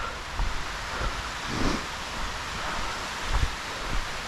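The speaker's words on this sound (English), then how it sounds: "this little stream here is absolutely gorgeous" Small mountain stream tumbling in stair-step cascades over chunks of bedrock along a forest hiking trail, a steady broadband rush of flowing water heard close and alone, with no talking.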